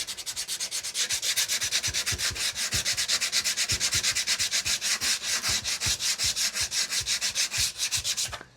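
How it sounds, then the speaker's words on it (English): Steady back-and-forth rasping of sandpaper on a wooden overland storage build, fast and evenly rhythmic, loud and close, continuing without a break. "so I'll finish sanding this."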